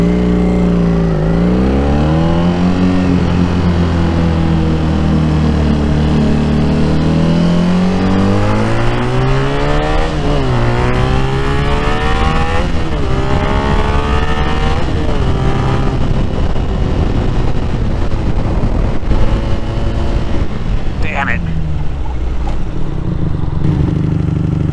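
A Honda VF500F motorcycle on a test ride revs loudly and close up, with the engine pitch rising and falling repeatedly as it pulls through the gears. Near the end it drops back to a lower, steadier note.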